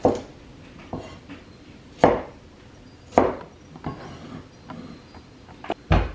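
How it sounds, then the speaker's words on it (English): Knife chopping cauliflower and broccoli on a cutting board in a home kitchen, about six sharp separate cuts spaced a second or so apart, each a crisp thunk against the board with quiet gaps between. "I cut the cauliflower and the broccoli first"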